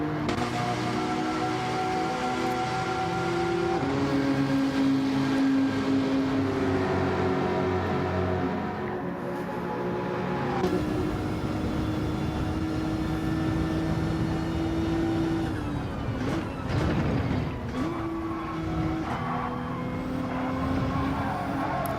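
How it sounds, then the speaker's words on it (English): Nissan GT-R race cars in Gran Turismo 7 during a GT Champions World Cup round, engines droning and shifting pitch as several cars roar past, a sustained loud mechanical whine with gear changes and no talk. "Love the sound of those GTRs."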